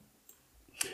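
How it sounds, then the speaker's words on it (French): Computer mouse clicks at a desk: a faint tick early on, then one crisp, brighter click near the end, close and isolated against a quiet background. "Je clique sur OK et de nouveau sur OK"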